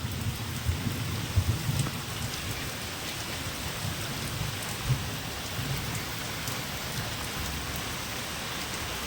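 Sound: heavy rain

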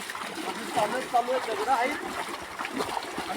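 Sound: splashing while swimming in river

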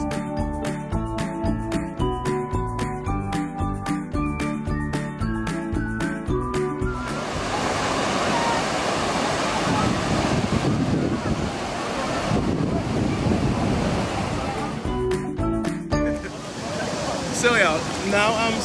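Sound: Krka waterfall and lake water, Croatia

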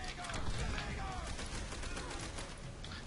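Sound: gunfire in World at War video game

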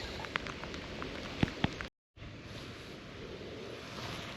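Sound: rain intensifying at a river while fishing

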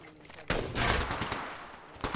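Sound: gunfire in video game Apex Legends Mobile

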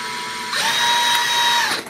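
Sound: power drill drilling holes in wood

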